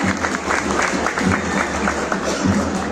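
A crowd applauds graduates at a university graduation ceremony in Isparta, continuous rhythmic clapping from many hands with crowd noise mixed in, fairly loud and sustained throughout.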